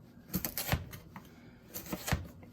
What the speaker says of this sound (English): And then what I'm going to do is cut sticks, just like this.